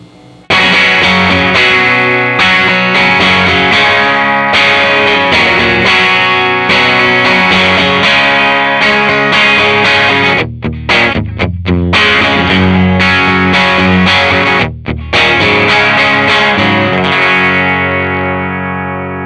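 Telecaster electric guitar played through a ValveTrain 416 tube amp into an open-back 1x12 cabinet with effects, loud strummed and picked chords with echo and chorus shimmer, brief pauses, then a final ringing chord decaying away.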